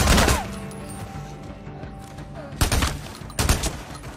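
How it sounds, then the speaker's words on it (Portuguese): Bursts of gunfire in the Days Gone video game: a sharp volley at the start, then two more loud close shots later, with quieter ambience between. "Vai numa briga de tiro com porrete."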